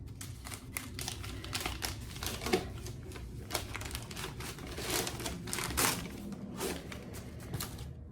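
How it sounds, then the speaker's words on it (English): Paper wrapping is torn and crinkled off a short-scale mahogany resonator banjo, a steady close stream of rustling, crumpling and tearing noises lasting several seconds. "Let's go ahead and take that paper off and take a look at it."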